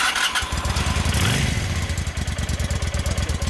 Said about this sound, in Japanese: すみません、シャドウエンジンを聞かせてもらえますか。